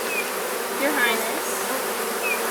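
Honey bees hum in a dense, steady drone over an open hive, with lone bees zipping past close by; a voice speaks briefly over the buzzing.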